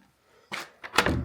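An old door to a storage room in a village house opens with a short sequence of close clunks and rattles, a latch knock followed by a heavier thud and scrape.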